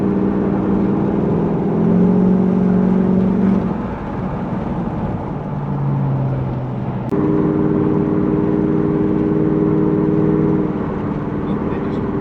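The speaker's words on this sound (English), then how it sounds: "So it drives, but we do have some other things to sort, and that's why we go for a test drive." A Mazda ute fitted with a 3UZ engine and a five-speed A650 automatic hums along on a test drive, a steady in-cab engine drone whose pitch drops and rises as gears shift.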